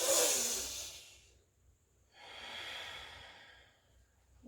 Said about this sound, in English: Now I'm going to take 3 final breaths here.